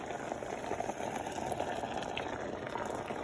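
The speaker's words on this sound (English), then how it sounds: "we had to bring the apples with the pectin mix to a rolling boil" Apples with pectin mix at a rolling boil make a steady, dense bubbling and churning, close and continuous throughout, with no talk over it.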